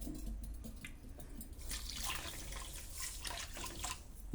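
Water poured into a pan on a home stove while making Mysore pak, a close splashing and trickling that swells in the middle and then tapers off, with no talk.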